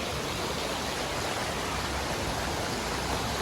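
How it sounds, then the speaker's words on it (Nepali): A mountain stream in Bhojpur, Nepal, flowing with a dense, steady broadband rush of water, even and unbroken, with no voices. "खोला हो"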